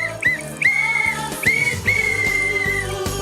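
A whistle is blown repeatedly and loudly close by. A few short chirping toots lead into longer sustained shrill blasts, with brief gaps between them.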